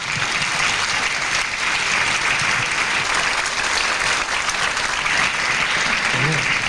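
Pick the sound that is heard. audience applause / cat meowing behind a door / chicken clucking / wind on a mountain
audience applause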